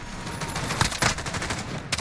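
Hip-fired bursts from an ASH-12.7 rifle in Call of Duty Modern Warfare, a loud rapid string of overlapping gunshots with heavier reports standing out near the middle and end, and no talk over it.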